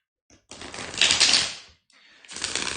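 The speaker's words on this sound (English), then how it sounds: "And just let me shuffle, and we're gonna move into it." Tarot cards being shuffled by hand, two bursts of dense papery riffling and flicking close up, with a short pause between them.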